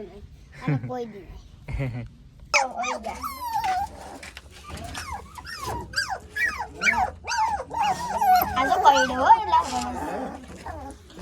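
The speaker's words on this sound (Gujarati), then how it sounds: "તો મિત્રો આ કૂતરા હે ને, આ ગલોડિયા." A Labrador puppy whimpers, yips and gives small growls and barks, close and fairly loud, while people talk over and around it.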